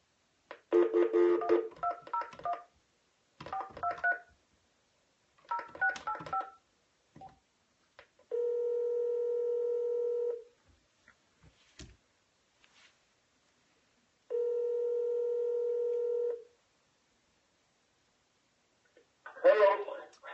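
Calling out on a landline phone, with two long steady ringback tones over the handset line that are separated by silence, and bursts of a voice at the start and end.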